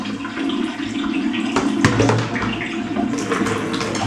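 Moin moin leaves are rinsed in water, with sloshing and splashing that rises and falls in bursts, close and fairly loud.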